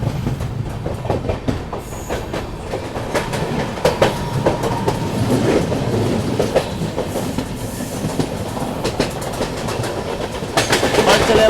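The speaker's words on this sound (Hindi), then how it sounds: "WCM3 लोकोमोटिव के साथ।" A Tejas Express bound for Goa, hauled by a WCM3 locomotive, rolls toward Panvel. Loud, close rhythmic clickety-clack of wheels over rail joints rumbles on throughout, with occasional sharper knocks.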